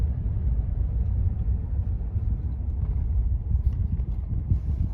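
A car rolls steadily toward a landfill site, its low engine rumble and road noise continuous and fairly close, with some wind buffeting and no talk.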